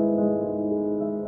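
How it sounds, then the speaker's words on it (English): A Yamaha U1 upright piano plays a short, soft sustained chord with its practice-pedal felt lowered between hammers and strings, giving a muffled, quieter tone heard alone. "it locks a felt in between the hammers and the strings to give you a quieter sound like this"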